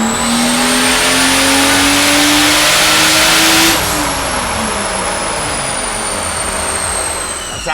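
A boosted Toyota 2JZ Supra engine revs hard on a dyno during tuning, a loud sustained climbing drone that peaks near four seconds, then drops and settles into a steady lower rumble as the revs fall away.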